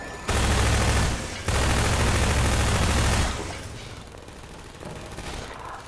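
Automated turrets in Half-Life 2 fire in two long, loud, rapid bursts separated by a brief gap, then the racket drops to quieter, scattered distant shooting.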